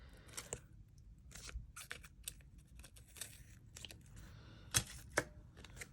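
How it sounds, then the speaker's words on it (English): Scissors snipping and trimming sticky tape, a quiet series of irregular crisp cuts and crinkles close up, with a couple of sharper clicks toward the end. "let me just trim that tape"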